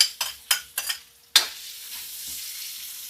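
Ginger hits a hot pan with a few quick stirring scrapes, then a sharp burst as it drops in, settling into a steady, soft sizzle of frying.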